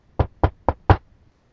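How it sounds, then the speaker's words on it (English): Four sharp knocks on a door in a steady, even rhythm, close and fairly loud, with no talking over them. "And now, there will be a knock at the door."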